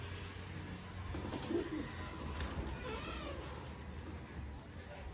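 Soft pigeon coos, including from a sick pigeon, murmur low amid a busy, noisy background, with faint chirps and some indistinct voices mixed in.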